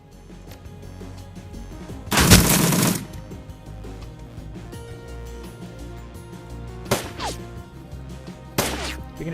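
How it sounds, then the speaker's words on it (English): Automated turrets fire in Shadowrun: Dragonfall as loud, bright bursts of gunfire, one long rattling volley followed by two shorter bursts, over a low game background hum. "We can let the turrets do the job."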